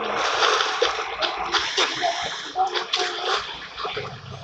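Water splashes and sloshes steadily close by, a busy, continuous wash of splatters with faint voices mixed in.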